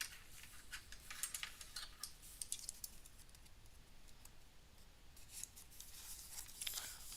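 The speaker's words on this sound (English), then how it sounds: "Let's open our next envelope." A paper envelope being opened close by: soft crinkling, tearing and scratchy rustles in irregular bursts, quiet, with no talking.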